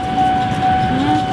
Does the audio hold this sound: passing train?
yes